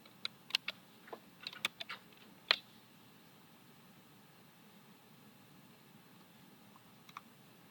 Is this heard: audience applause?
no